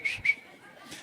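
A person whistles poorly: two short, thin, breathy whistle notes close together, then a faint airy attempt, all quiet and alone.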